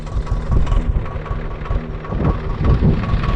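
A farm tractor's diesel engine runs steadily nearby in a field during light rain, a low rumbling drone with irregular knocking pulses that rise and fall in loudness, no talking.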